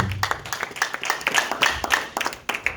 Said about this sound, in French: Clap the word of the Lord.